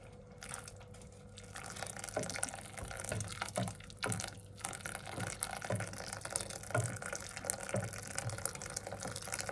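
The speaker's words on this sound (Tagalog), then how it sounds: "Saka lagyan na natin ng mainit na tubig." Freshly boiled hot water pours steadily into a pot of rice porridge, a continuous close-up splash and trickle with small clinks over a kitchen background.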